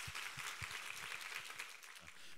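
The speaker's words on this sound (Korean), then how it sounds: "우리 하나님께 감사와 영광의 박수 올려드리겠습니다." Congregation clapping at a Korean Sunday church service, faint and rhythmic with a steady patter of hands and some low sounds beneath.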